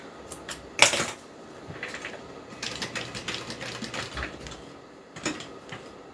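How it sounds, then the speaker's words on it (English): A sewing machine stitches up one side of a handmade bag in short mechanical runs of whirring and clicking, with a sharp clack near the start and brief pauses between bursts, close and fairly loud. "we're just going to sew up one side"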